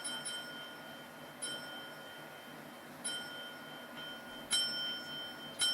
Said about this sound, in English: Ringing that service bell.